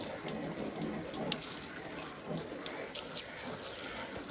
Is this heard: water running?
yes